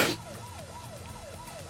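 A police car siren wails in a steady rising and falling cycle after a brief loud burst at the start, sounding moderately distant and heard without talk.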